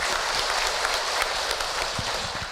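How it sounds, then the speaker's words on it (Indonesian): Audience applause after a talk, a dense, steady wash of clapping that fills the whole short stretch at even loudness, with no voices over it. "boleh tepuk tangan sekali lagi untuk Hilman Ibu"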